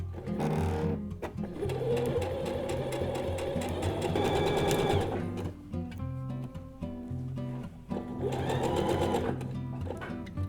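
A sewing machine runs in steady motorized bursts while stitching a fabric house slipper all the way around the seam. It is loud and close, with brief pauses and speed changes between runs and no talking.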